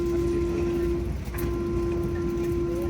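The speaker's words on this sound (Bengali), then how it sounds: "শুরু হয়ে গেল ট্রেন, ছেড়ে দিল একদম ডট 5:55-এ" Steady rumble and hum of a passenger train departing on the Kothidara road route, heard from inside the carriage as an unbroken low drone with a constant tone and no voices.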